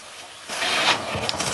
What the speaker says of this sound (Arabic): هذا كله بخار، يعني نحمد الله انه ما انفجر الجيزر